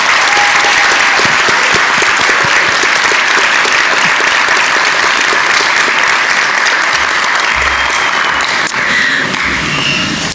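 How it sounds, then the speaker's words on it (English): An audience at a community service awards ceremony gives a loud, dense round of applause that continues without a break, close and full throughout. "Can we have one more round of applause for all of our recipients?"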